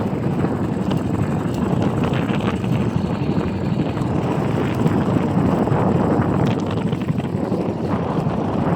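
Strong, steady wind buffeting the microphone with a constant low roar, continuous throughout with no voices.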